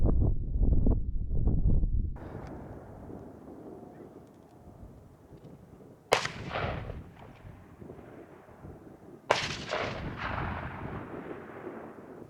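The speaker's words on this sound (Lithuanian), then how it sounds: "kolega stovintis iš dešinės atliko vieną taiklų šūvį" Rifle shots fired at roe deer during a driven hunt in Lithuania: two sharp, loud cracks about three seconds apart, each trailing a long rolling echo over steady wind noise outdoors.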